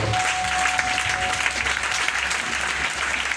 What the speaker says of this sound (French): Acclamez cette parole.